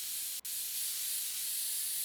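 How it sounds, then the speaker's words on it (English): Steady close hiss of compressed air spraying to clean a PC fan in the game PC Building Simulator, a continuous bright rush with one brief break near the start. "We'll get some compressed air going on here."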